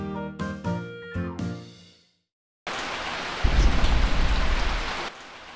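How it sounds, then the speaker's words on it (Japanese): Heavy rain pours down after a short burst of plucked musical notes and a brief silence, a loud dense hiss that swells midway and then eases off toward the end. "雨止まないな。"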